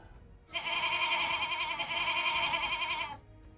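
A single long, loud goat bleat from a stream sticker alert, wavering and sustained for about two and a half seconds before cutting off into quiet.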